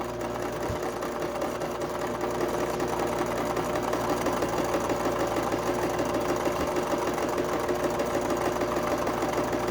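A sewing machine runs a straight stitch along a quarter-inch seam on a cotton and lace quilt block, a steady fast mechanical whir with rhythmic needle chatter, close and continuous after a brief start.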